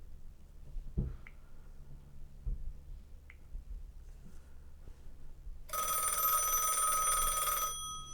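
A Commodore-branded rotary phone rings as its bell clatters in one continuous ring of about two seconds, fairly loud and close, after a few faint clicks in an otherwise quiet room.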